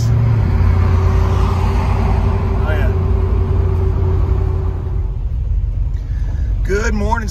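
A car drives into UMI Motorsports Park in Clearfield, Pennsylvania, its steady low road rumble and engine drone heard from inside the cabin. The rumble eases slightly toward the end, where a brief voice is heard.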